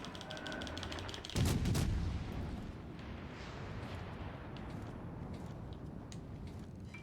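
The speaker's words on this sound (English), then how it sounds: "Let's get these guns on target." Warship guns fire in the naval video game World of Warships Legends, one loud booming salvo erupting after a quiet lead-in, then a long rumbling decay under steady background game noise.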